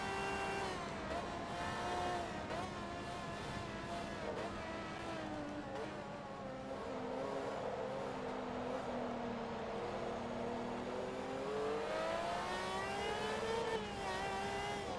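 Car engine from the game Forza Motorsport 2 in an extreme performance shootout, revving and climbing in pitch as it accelerates, holding a steady loud drone with a rise near the end.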